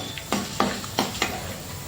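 Fenugreek and coriander seeds frying in a pan for gongura chutney: a soft sizzle broken by four sharp stirring scrapes and taps at an even pace.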